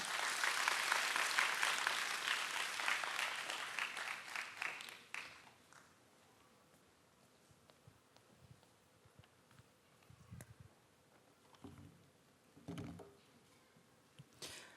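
Congregation applauding in welcome at a church all-generations worship service, a broad, dense wash of clapping that fills the first five seconds and then fades to scattered movement and quiet room noise.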